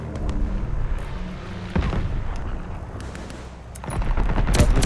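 Bombing-run explosions and rapid gunfire in the shooter game Call of Duty: Vanguard, a dense rumbling barrage with a heavy blast near the two-second mark and louder bursts building toward the end.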